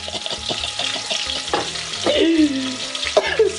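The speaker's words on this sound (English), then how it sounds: "So as the onion is boiling or frying, I'm throwing some more Maggi in there to fry with the onions." Onions fry in hot palm oil with a busy crackling sizzle, while Maggi seasoning goes in alongside them. Stirring and utensil clinks sound close over the frying.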